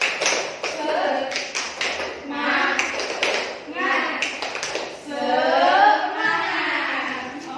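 A class of children claps along in rhythm to the 'tepuk semangat' clap chant, with sharp hand claps mixed in with loud, close children's voices chanting.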